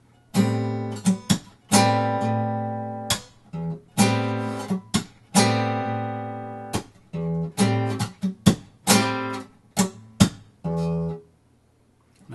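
Guitar playing the first four measures of a song slowly, mixing ringing chords, percussive slaps and muted open strings in a halting rhythm with short pauses, close and clear.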